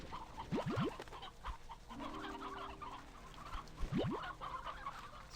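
Chickens in Slime Rancher 2 clucking in short sharp bursts at the start and again near the end, with a low hum between, all quiet and with no talk.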